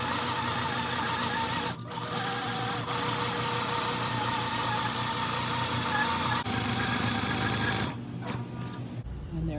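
Quilting machine driven by Quilt Path stitching a crosshatch pattern, a steady close mechanical whir with rapid needle rhythm running throughout, briefly interrupted near the end by a few clunks.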